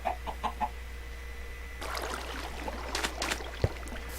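A few short clucks from Minecraft chickens open the scene, followed by soft scattered farmyard rustling and a faint low hum; the clucks sound close but quiet.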